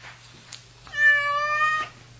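A single clear cat meow, drawn out for about a second, sounds close by against a quiet room with a low steady hum.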